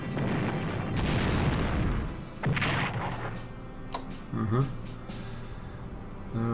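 A naval cruiser fires in the Strategic Command 1939 Storm over Europe strategy game, giving a loud booming artillery shot that decays, with later smaller game sounds and someone talking.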